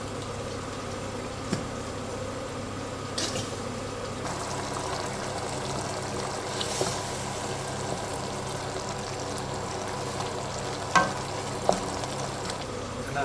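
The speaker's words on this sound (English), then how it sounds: "I'm gonna let this simmer for about 15 to 20 minutes until all the liquid has evaporated" Bolognese sauce spiced with gulak simmers in a pan, giving a steady, soft bubbling sizzle throughout with a few faint clicks and taps near the end, no voices.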